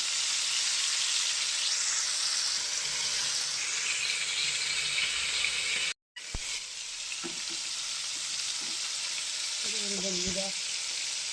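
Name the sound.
prawns frying in a pan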